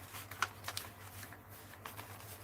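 Scissors cutting paper for a junk journal: a few quiet snips and papery rustles at close range, irregularly spaced over a low steady hum, with no talking.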